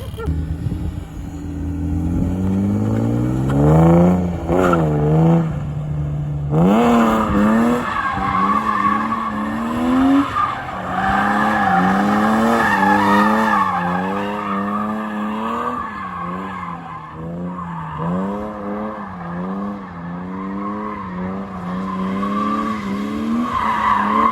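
Tires inflated to 50 psi squeal and skid continuously as a car spins donuts. Wavering shrieks ride over a revving, surging engine, loud and close, for the full stretch.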